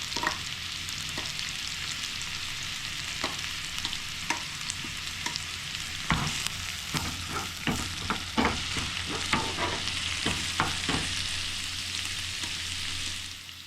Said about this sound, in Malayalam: പച്ചമുളക് ഇടാം, നമുക്ക് കറിവേപ്പില ഇടാം